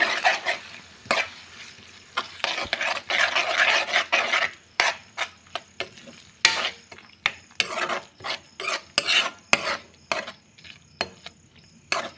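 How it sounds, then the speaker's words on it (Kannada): Five beaten eggs being mixed by hand in a bowl, a steady run of close scraping, rasping strokes with short pauses between them, fairly loud and alone. "ಇದಕ್ಕೆ ಸೇರಿಸ್ಕೊಂಡು ಚೆನ್ನಾಗಿ ಮಿಕ್ಸ್ ಮಾಡಿ"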